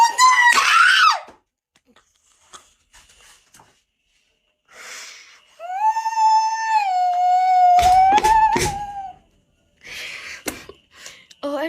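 People scream loudly in several bursts, one a long sustained shriek, separated by gaps and broken by gasps and excited voices.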